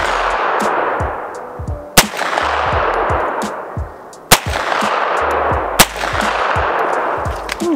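CZ Scorpion Evo 3 S1 pistol-caliber carbine firing at distant targets: four sharp, loud shots spaced roughly two seconds apart, each followed by a metallic ring, over steady outdoor background noise.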